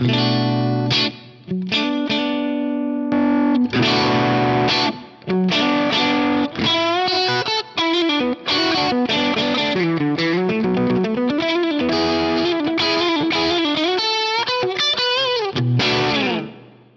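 Electric guitar through a T808 overdrive boost pedal and Brit JM45 amp plays a loud, continuous riff with sustained distorted chords and bends, brief pauses between phrases, no voices.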